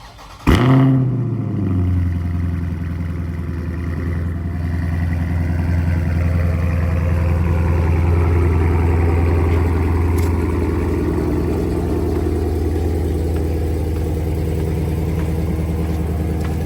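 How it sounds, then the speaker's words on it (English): A car with an X-pipe exhaust cold-starts with a sharp crank and catch, then settles into a loud, steady high idle that holds close to the microphone for the rest of the clip. "I actually got a cold start. I'll put that in right here so that you can hear it."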